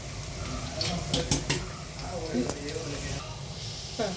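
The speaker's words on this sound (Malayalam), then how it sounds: "നമുക്ക് ഈ മുളക് പൊടി എണ്ണയ്ക്കകത്തുനിന്ന് മൂക്കുന്നിടം വരെ ഒന്ന് ഇളക്കി കൊടുക്കാം" Chilli powder frying in oil and being stirred with a spoon in a pan while making a sardine curry, a soft hiss under scraping stirs and a few clicks, with a voice talking over it.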